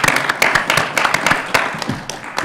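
A room full of committee members claps for their chair, dense overlapping handclaps filling the space steadily and fairly loud, with some voices mixed faintly underneath.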